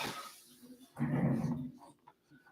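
A dog in an office lets out one short close grumbling vocalization, a low growl-like whine lasting about half a second, with quieter breathing and faint shuffling around it.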